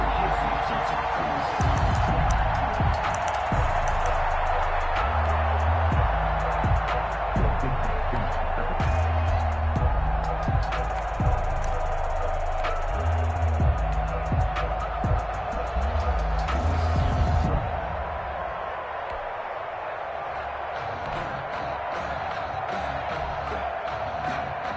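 Stadium crowd roars and cheers continuously during an early drive in a football video game, a dense loud wash of voices with low rumbling beneath, dropping to a softer murmur near the end.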